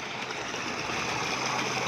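Strong water gushing from a solar-powered tube well in a sugarcane field, a steady, continuous broadband rush heard close and alone without talk.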